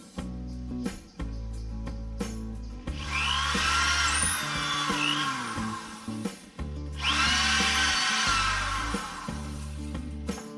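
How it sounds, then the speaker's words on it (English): A power drill whirs in repeated bursts, spinning up and pre-drilling wood for wheel cribs, with short pauses between runs, close by. "we're going to go and start our pre-drilling process"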